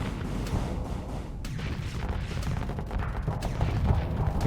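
Ship weapons fire in the Starsector space game, a dense stream of rumbling shots and booms layered over one another in continuous heavy bursts at moderate loudness.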